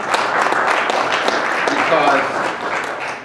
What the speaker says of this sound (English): we want to give Father Moon a hand clap as well